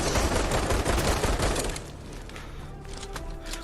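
Rapid automatic gunfire in the PSVR2 shooter Crossfire Sierra Squad rattles loudly for under two seconds, then fades into quieter game ambience with faint distant shots.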